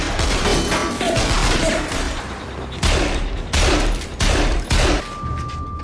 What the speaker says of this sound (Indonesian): terjadilah baku tembakan serta ledakan